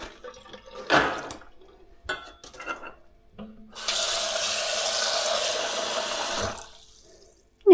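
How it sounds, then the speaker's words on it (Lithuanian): Water from a tap pours into a pot of chickpeas in a steady rushing stream lasting about three seconds, preceded by a few clanks and rubs of the pot. "Nedaug vandens užpilu."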